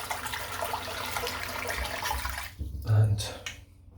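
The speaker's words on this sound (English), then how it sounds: "Got a little bit of water in the sink now" Tap water runs into a bathroom sink during a head shave, a steady low wash that briefly swells louder near the end with no talking over it.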